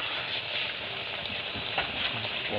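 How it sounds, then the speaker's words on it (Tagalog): Frog meat cooks in coconut milk at a steady boil, giving off a continuous bubbling sizzle, close and fairly quiet, with no talk over it. "Kumukulo-kulo na"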